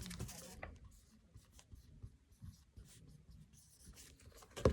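Numbers are written down by hand, a quiet close scratching of pen or pencil on paper in short strokes and pauses, with faint handling noises.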